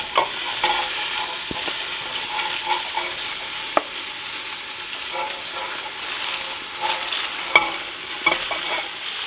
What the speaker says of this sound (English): Now I'm going to add the cabbage. I'm going to add my chopped cabbage.